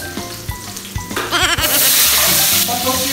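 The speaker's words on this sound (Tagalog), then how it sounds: "ginisa natin hanggang maging translucent yung ating yung onion" Onion sautéing in oil in a pan, a loud continuous sizzle that swells up and holds steady, with clattering of stirring before it and a brief squeaky tone mixed in.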